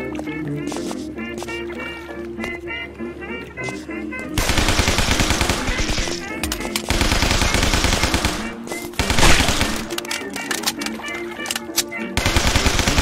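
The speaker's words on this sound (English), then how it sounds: "Beats the good old Tommy gun." Tommy gun bursts in the zombie platform game Guns, Gore & Cannoli, rapid rattling automatic fire repeating through the clip over game music and effects, loud and dense, with occasional voice-like sounds mixed in.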